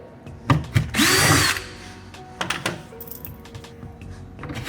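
A power drill bores a rivet hole in an ACS composite side rocker on a 2020+ C8 Corvette, with one loud, close whirring burst, then scattered clicks and knocks of tool handling.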